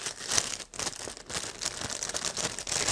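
A plastic bag from Tritton PRO+ 5.1 surround headset packaging crinkles and rustles continuously up close, with sharper crackling bursts throughout and no voices.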